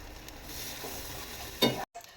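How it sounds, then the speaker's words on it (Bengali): Spiced masala frying in oil with peas for ghugni, a soft steady sizzle with stirring scrapes, then a sharp burst of sizzling as something hits the hot pan just before a brief cutoff. "মশলাটা কষে গেছে তেল ছেড়ে দিয়েছে আমি মটরটা দিয়ে দিলাম"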